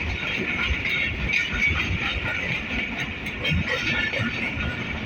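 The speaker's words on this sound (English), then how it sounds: "ज़बरदस्त acceleration EMD की।" An EMD diesel locomotive accelerating on a railway run toward Landi junction, heard as a steady, rumbling drone with a hissy upper layer and faint wagon rattle throughout.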